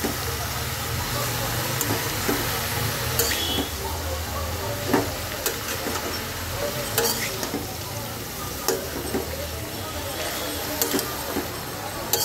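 Mixed vegetables with green chillies and salt sizzle and fry in a pan while being stirred, with steady scraping strokes over a continuous close hiss.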